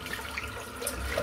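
Running tap water rinsing soap out of a shaving brush, a faint, steady hiss of flowing water over a sink, alone.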